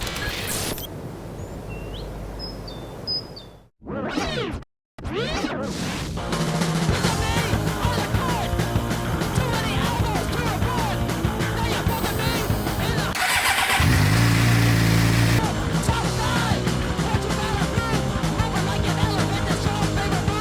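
A motorcycle in San Francisco near the Marina goes briefly quiet, then starts up and runs steadily, its mid-pitched engine hum continuing loud and close for the rest of the ride.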